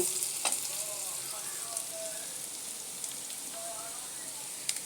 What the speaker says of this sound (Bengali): আদা রসুন বাটা দিয়ে দিলাম, আর কিছুটা দিয়ে দিলাম।